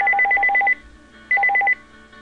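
Telephone keypad DTMF tones beep in two quick bursts of rapid, evenly spaced presses, clear and close with a short pause between them.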